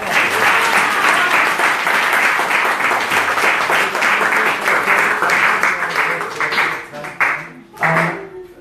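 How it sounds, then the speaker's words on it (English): An audience at a Sunday spiritual talk breaks into steady, dense applause for about seven seconds, then the clapping thins and fades as a few voices come through near the end. "give everyone a round of applause"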